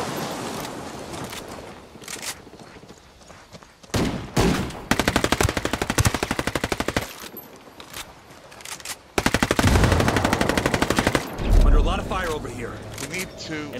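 Automatic weapon fire in the Ghost War tactical shooter, loud rapid bursts of rattling shots in two main volleys separated by quieter stretches, close and punchy, with a few single cracks and game noise between them.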